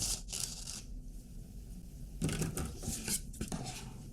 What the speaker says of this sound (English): Now I'm going to cut out my collar.